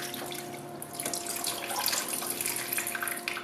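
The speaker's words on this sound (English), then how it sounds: "this one here, that's so that you can take water samples. It just free drains back out of the pool." Water free-draining from a hot tub's sample tap, a steady close splashing rush with a faint tonal hum beneath it and no talk.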